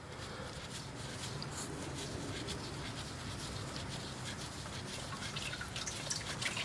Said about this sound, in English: The oil starts leaking from the oil filter. Drain pan is catching it.